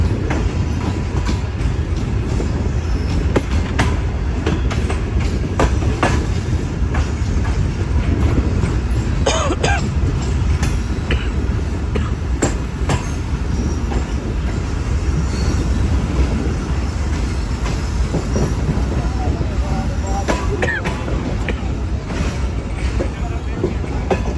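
A passenger train rolls into the platform at Kotli Junction, its steady rumble and rhythmic wheel clatter loud and continuous throughout, with occasional clanks and squeals over the constant roar.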